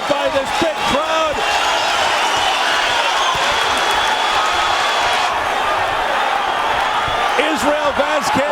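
Large arena crowd at a championship boxing bout roars and cheers steadily throughout, a dense continuous wall of noise with a commentator talking over it.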